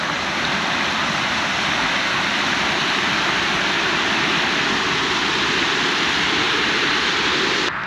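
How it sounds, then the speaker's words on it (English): A small woodland waterfall in Loblolly Woods, Gainesville, rushing in a steady, loud broadband wash that holds constant and alone throughout, cutting off just before the end. "That is a cute little waterfall."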